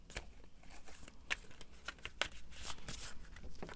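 Tarot cards being shuffled by hand, a steady papery riffling and rustling with soft flicks and a few sharper snaps, close and fairly quiet, with no talking.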